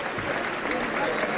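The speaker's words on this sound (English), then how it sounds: "obviously getting the salutation from the crowd that he so richly deserves" A boxing-arena crowd applauding as a boxer is carried from the ring on a stretcher, a steady wash of clapping heard from a distance at moderate volume, with voices mixed in.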